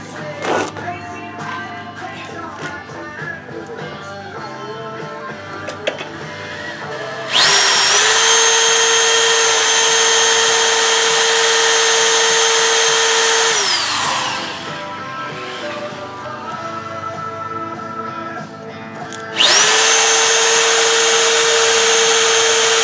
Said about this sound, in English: I think I can just drill them right while it's clamped